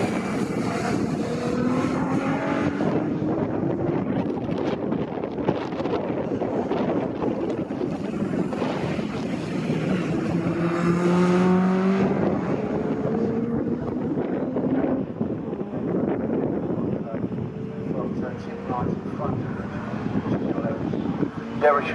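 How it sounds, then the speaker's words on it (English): Racing car engine at Snetterton circuit in a 1970s sports racing car race, a steady broad roar with rising and falling engine notes under wind noise and commentary. "That's a gorgeous looking, gorgeous sounding car."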